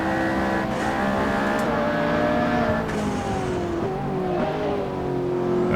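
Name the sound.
V6 race car engine in Assetto Corsa video game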